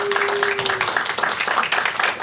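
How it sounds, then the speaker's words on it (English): Audience applause fills a church service gathering as a guest is invited up front: a dense, steady wash of clapping from a crowd, fairly loud and continuous throughout. "Let's give Maria some love, y'all."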